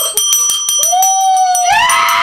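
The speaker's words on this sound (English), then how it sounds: "I got your bell ready." A hand bell rings rapidly in a quick series of bright, close metallic strikes that leave a sustained ringing tone.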